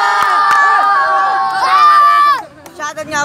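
Crowd at a live rap battle league event cheering and shouting, loud and close with excited yells rising and falling, then thinning into scattered shouts over a few seconds.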